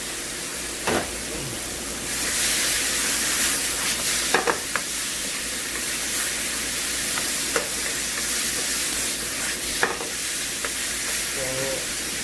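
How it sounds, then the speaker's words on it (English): Eggplant sizzles and fries in a hot pan for a baigan bharta, a loud continuous hiss with occasional stirring scrapes and clacks from a utensil close by. "So we're gonna add some eggplant here."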